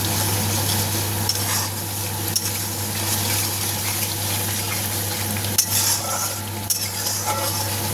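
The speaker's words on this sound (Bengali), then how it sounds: "মশলা থেকে যতক্ষণ না তেলটা ছাড়ছে ততক্ষণ অবধি মশলাটাকে কষিয়ে নিতে হবে।" Spice paste with salt frying in oil in a pan, giving a loud, continuous sizzle with a few soft stirring scrapes, close by and without speech.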